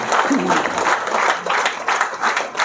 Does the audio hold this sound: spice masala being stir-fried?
no